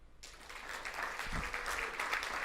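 An audience at a speaking event bursts into applause, a dense wash of many hands clapping at a fair distance that swells after a short pause and carries on steadily.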